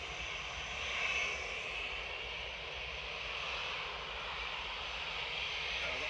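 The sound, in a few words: British Airways jet airliner at Manchester Airport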